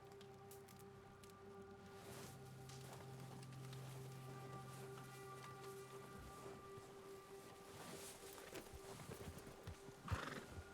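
A video game horse in RedM roleplay neighs and whinnies over steady clip-clop hoofbeats, with a low droning hum underneath and a louder snort near the end.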